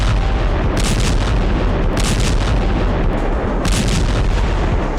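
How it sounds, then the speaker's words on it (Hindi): Heavy, continuous rumbling blasts with a few sharper bursts standing out, loud and dense throughout, like distant explosions or artillery, in the Russia-Ukraine war. "यही वजह है कि यूक्रेन की जमीन पर धमाके हो रहे हैं।"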